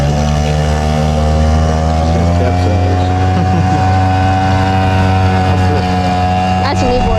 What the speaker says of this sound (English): Did you ever know a boat can do a wheelie